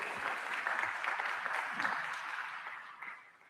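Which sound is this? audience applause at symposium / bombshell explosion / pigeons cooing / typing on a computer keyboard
audience applause at symposium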